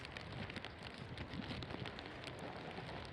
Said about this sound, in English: Horizontal rain here in Amsterdam.